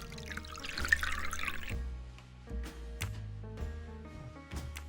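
Water is poured into wine in the Agatha Christie: Death on the Nile puzzle game, a splashing trickle at first followed by a few scattered clinks and drips over quiet background music.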